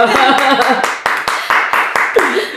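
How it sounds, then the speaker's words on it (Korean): About a dozen sharp, close hand claps ring out in an uneven rhythm while people talk and laugh over them. "계속 볼 때마다 자랑스러워서 박수 한번 더 치고 갈게요"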